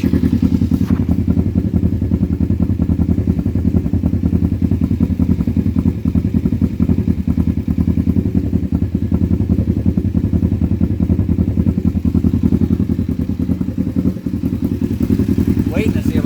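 A Kawasaki Vulcan 500 motorcycle engine idles steadily while warming up, a loud continuous low rumble with faint clattering throughout and a soft thump near the end.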